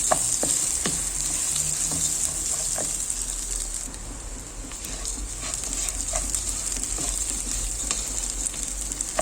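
Washed, soaked rice toasts in a pan with a constant close sizzle, punctuated by scattered clicks and scrapes of stirring and a low background rumble; nobody speaks.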